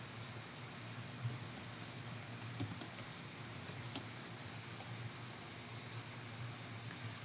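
Quiet, close computer keyboard typing, a run of soft, irregular key clicks with a few sharper taps over faint background hiss.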